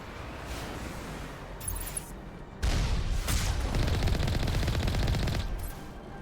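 Turret gunfire in Mass Effect, a rapid sustained burst of shots close and loud over a rumbling battle bed, cutting in after a quieter stretch and running for several seconds before easing off.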